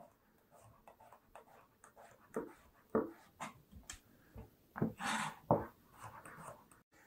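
A kitchen knife slicing vegetables into quarter-inch half moons on a cutting board, making a string of irregular, close taps and thuds with a few sharper, louder chops, no talking.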